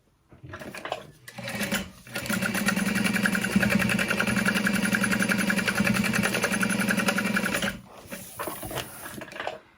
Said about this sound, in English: We're going to sew across the top there.